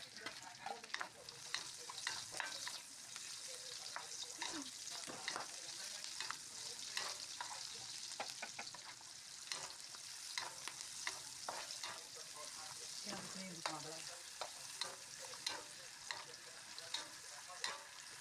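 Onions being stirred as they fry in a pan for a bitter melon dish, a steady close sizzle with repeated scraping strokes of the utensil throughout, no talking.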